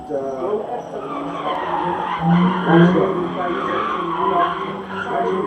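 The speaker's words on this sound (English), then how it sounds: "Just listen left, right, sound of that Nissan." A Nissan slides through a gymkhana course at a raceway, tires squealing and skidding with left-right engine surges, loud and close, while a commentator talks over it.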